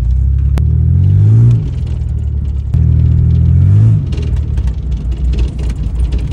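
A Baja truck's engine revs hard twice while driving, each loud rising roar dropping back to a rough rumble between pulls, close to the listener and with no talking.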